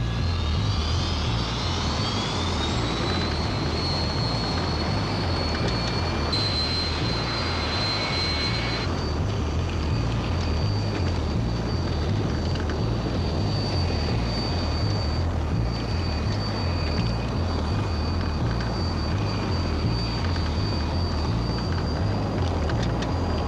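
A Flight 90 airliner taking off, a loud, steady jet engine roar that builds and holds throughout, with a rising whine sweeping upward early on and a constant low rumble underneath.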